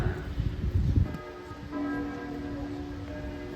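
Church bells ring out at Lourdes, steady sustained tones with a broad rumbling wash in the first second, then clearer ringing partials hanging at a moderate distance.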